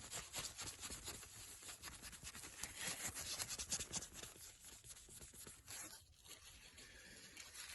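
Steady rubbing and scrubbing of a cloth over a Rootes 1725 cc engine bearing cap with brake cleaner to remove residue, a continuous close, faint rasping texture without pauses.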